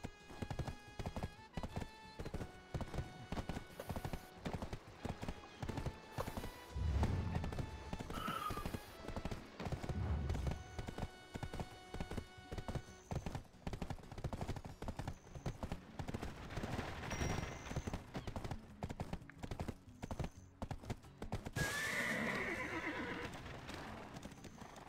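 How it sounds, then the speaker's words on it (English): A horse gallops across an open field in the video game Black Desert Online, its rapid hoofbeats clip-clopping steadily for the whole stretch, with occasional whinnies and snorts and a few sharp cracks nearby. "Try sprinting across an open field on the back of a horse."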